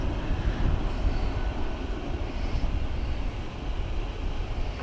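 An EasyJet jet departs Gatwick Airport bound for Dubrovnik, its engines making a continuous low rumbling roar that holds steady for the whole clip.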